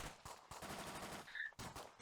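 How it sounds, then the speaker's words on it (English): Bursts of gunfire in a tabletop roleplaying session set near a fight on a main thoroughfare between clubs, sharp cracks repeating at irregular intervals over a steady background, fairly loud, no talking. "You guys can easily make your way towards the sound of the gunfire."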